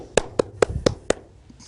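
One person applauding alone at a community Toastmasters meeting: five sharp, evenly spaced claps, close and distinct, in a quiet room.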